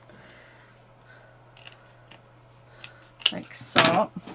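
Scissors snip paper bits for card making, a couple of quick close cuts near the end after quiet handling, with a brief spoken remark.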